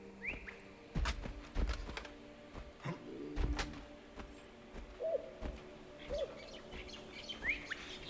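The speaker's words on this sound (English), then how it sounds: "I do appreciate the fact they have bird sounds and stuff in here" Bird chirps and owl-like calls ring out in the Guild Wars 2 game world, scattered tweets and short whistles over quiet ambience, mixed with several soft thuds and footsteps.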